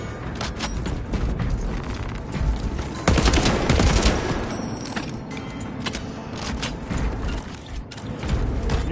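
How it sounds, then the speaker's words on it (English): Weapon being reloaded in a video game, with mechanical clicks and ratcheting clacks mixed into a dense, steady wash of battle gunfire, including a louder burst near the middle. "Reloading weapon."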